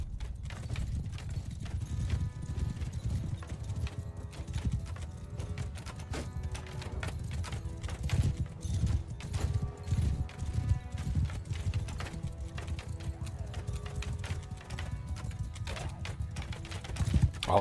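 Cavalry horses galloping in the video game Bannerlord: a dense, steady drumming of many hooves clip-clopping together at close range, running continuously with no voices over it.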